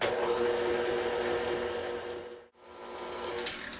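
A stand mixer creams two sticks of room-temperature butter with sugar, a steady loud whirring motor hum that dips briefly to near silence midway, then resumes.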